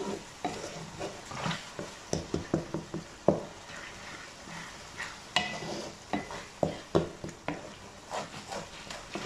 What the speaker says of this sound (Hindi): ये आपका जो कीमा है ये ऑयल के साथ भून रहा है।